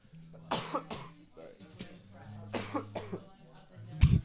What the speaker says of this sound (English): I've been coughing this whole episode.